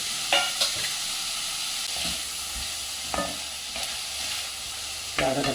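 Tomatoes tossed into a hot pan with green peas for a pulao, sizzling steadily while a spoon stirs and scrapes in several sharp clatters, loud and close.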